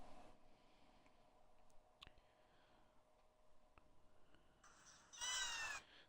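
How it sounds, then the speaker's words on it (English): A cat meows in a cat video playing during a Call of Cthulhu game session: one short, clear, high meow near the end, fairly loud over quiet game background hum and a few faint clicks. "That is a cat video."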